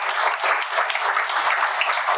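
Dense, steady audience applause for pastors at a church teaching event, a continuous wash of clapping with no voices.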